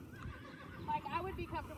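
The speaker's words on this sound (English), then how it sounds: "next to another horse." A stud horse standing beside another horse lets out a whinny with wavering, rising and falling tones among softer snorting sounds, close by. A voice is also heard.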